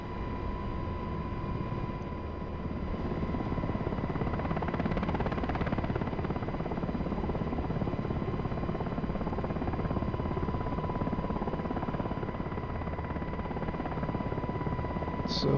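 Steady, loud rotor and turbine drone of a Pave Hawk helicopter in the DCS flight simulator, a continuous whine with a constant high tone held throughout as the aircraft slows, no voices.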